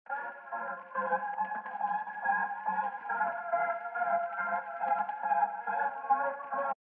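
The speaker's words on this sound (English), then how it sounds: "I ended up finding this textural pad." A textural synth pad sample from Splice, heard in its original unaltered form, holds a dense shimmering sustained chord with a faintly pulsing, grainy low layer underneath, steady and unaccompanied.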